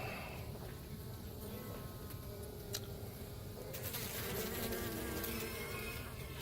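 Honeybees at an open beehive while a frame is lifted during a queen search, a dense, steady buzzing drone of many bees close by throughout, swelling somewhat louder toward the end.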